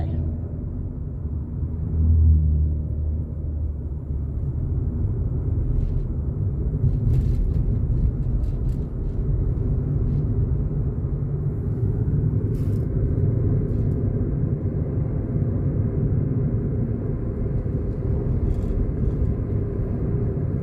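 A car driving on a main road during a driving lesson, a steady low engine and road rumble from inside the cabin, constant and fairly loud for the whole stretch.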